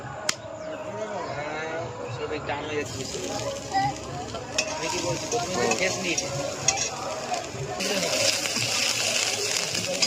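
Garam masala and ginger sizzle in hot ghee in a home kitchen pan while being stirred. The frying crackle is steady, with occasional scraping clinks from the spoon, and a person talks over it.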